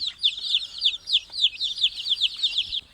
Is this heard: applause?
no